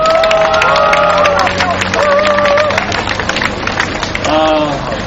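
A crowd at a Sewol ferry families' rally in 2016 claps and cheers in a dense, continuous burst, with voices and a sung or amplified tone carrying over the applause.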